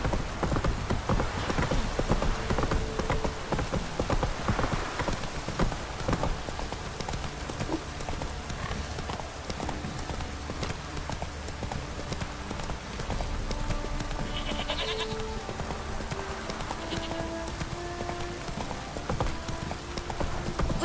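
Roach, a horse in The Witcher 3 video game, trots with steady hooves clip-clopping throughout, a continuous rhythmic beat under a game music score, with faint sheep bleats now and then.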